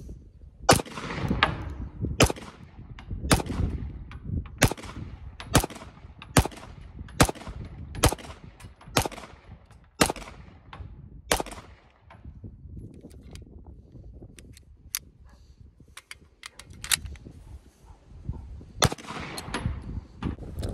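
A Girsan MCP35 pistol is fired in a string of loud, sharp shots at a fairly steady pace, with one longer pause partway through before a few more shots follow.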